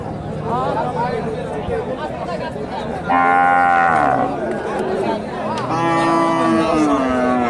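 Cattle moo loudly nearby at a cattle market in Bogura, Bangladesh, two long, deep calls rising above the busy chatter of a crowded market.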